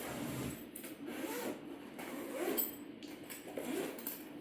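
Zipper on a Hart tools bag pulled in several rasping, scratchy strokes close by, with rustling handling noise between pulls and no talking.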